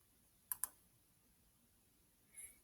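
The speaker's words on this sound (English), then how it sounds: "What I do is I click starting a new business." Computer mouse clicks while filling in an online form: two sharp clicks close together near the start, then a softer fumbled click and a final sharp click at the end, in a quiet room.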